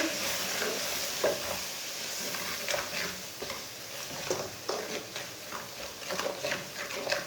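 Potato and cauliflower sizzle in a pan with red chilli, turmeric, coriander and gram flour, a continuous close frying hiss with soft scraping stirs recurring every second or so, moderately quiet and without speech.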